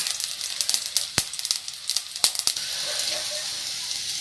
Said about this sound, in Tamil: நம்ம கடுகு போட்டுக்கலாம். கடுகு நல்லா பொரியட்டும்.